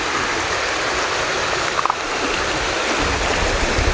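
Heavy rain floodwater rushes out of a rice field in Laos, a loud, continuous broadband roar of flowing water close by, with a brief splash midway and no voices.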